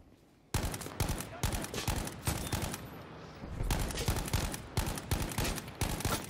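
Burst-fire rifle shots in Battlefield 5 multiplayer, sharp close cracks fired in quick clustered bursts of two or three with brief gaps between, loud and steady across the whole stretch.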